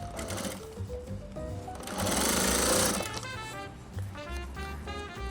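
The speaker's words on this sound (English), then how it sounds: "Backstitch a couple stitches so it stays put." A sewing machine stitches fabric scraps for a koozie with a fast, loud, mechanical chatter of needle strokes, briefly surging in speed before settling back into a steady clatter.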